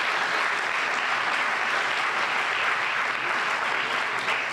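Sustained audience applause for the mayor at a youth program graduation ceremony, a dense steady wash of clapping that holds at an even level throughout.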